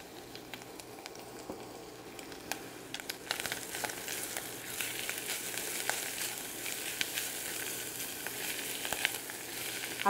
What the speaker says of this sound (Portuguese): refogar o alho e a cebola. Vamos colocar o alho.